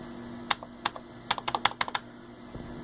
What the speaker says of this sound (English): then I hit 1, try to type anything.